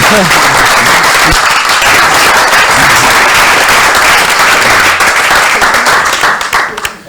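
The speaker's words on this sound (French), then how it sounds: "On l'applaudit, s'il vous plaît." Applause from a ceremony audience, steady and full for about seven seconds before tapering off at the end, with voices mixed in underneath.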